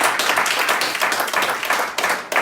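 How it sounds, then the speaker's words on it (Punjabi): Clapping from a congregation at a Christian prayer meeting, honouring a family, a sustained fairly dense patter of many hands throughout with no voices over it. "ਜ਼ੋਰਦਾਰ ਅਸੀਂ ਇਹਨਾਂ ਦੇ ਵਾਸਤੇ ਤਾਲੀਆਂ ਵਜਾਵਾਂਗੇ"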